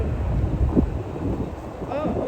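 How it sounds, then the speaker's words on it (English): Strong wind buffets the microphone at Miami's airport with a steady, loud low roar and gusty rumble that runs through the whole stretch, with a faint higher whine near the end. "There's a lot of wind"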